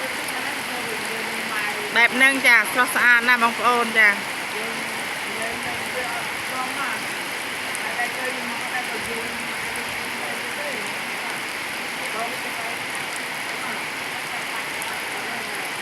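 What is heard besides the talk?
heavy rain falling on rice fields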